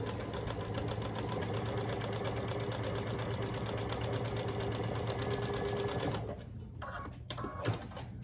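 Fast, steady rhythmic stitching of a sewing machine piecing quilt block fabric, close and continuous for about six seconds before stopping, followed by a few faint handling clicks.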